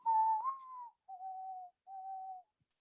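A person whistles an imitation of a mourning dove's song: one long sliding note followed by two steady, level held tones with short gaps between them, close and clear with no other sound.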